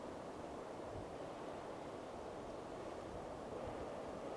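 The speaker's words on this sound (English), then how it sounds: "It's nice to sit here and listen to the wind through the trees." Soft, steady wind rushes through trees outdoors, a faint, even broadband hiss with no distinct gusts or voices.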